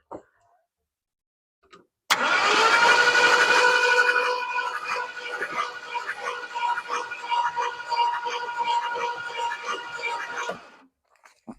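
A 1968 Ford F100 pickup engine that had been sitting catches and idles for several seconds with a rough, uneven, pulsing note, then shuts off; loud and close, with no talk over it.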